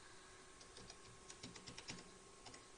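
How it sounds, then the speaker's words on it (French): Soft, faint computer keyboard typing: scattered quiet key clicks in a small irregular cluster over a steady low background hum, with no voices. "Excusez-moi du bruit des claviers."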